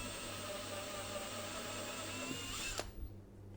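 A power drill with a 6 mm bit bores steadily through metal and teflon, a continuous close whine and grind that drops off near the end as the cut stops.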